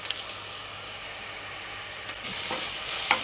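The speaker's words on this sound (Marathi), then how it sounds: "1-2 मिनिट आपण ही आलं लसूण पेस्ट पण परतून घेणार आहोत" Ginger garlic paste sautéing with softened onions in a pan for Kolambi Bhaat sends up a continuous soft hiss, with a few brief stirring scrapes near the end.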